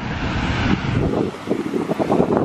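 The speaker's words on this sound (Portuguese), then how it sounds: "Vocês devem estar a ouvir uma ventania do caralho" Heavy gusts of strong wind buffet the microphone with a dense, roaring rumble outdoors by the sea, swelling and fluttering continuously throughout.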